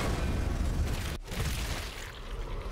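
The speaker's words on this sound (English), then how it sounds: "Let's see the explosion in slow motion." A loud, dense explosion in the zombie shooter Zombie Army 4, played back in slow motion as a sustained low roar with a brief sharp dropout midway before the rumble resumes and fades slightly.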